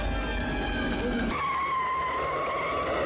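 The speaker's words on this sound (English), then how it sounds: "Brakes." Car brakes skidding in the 1996 film Scream, a loud, sustained tire screech over engine rumble that shifts pitch partway through, with no clear talk.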